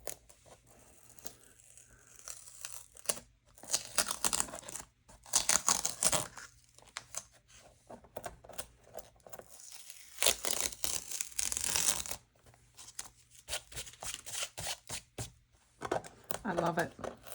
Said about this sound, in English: now let's peel off the tape and see what the final result is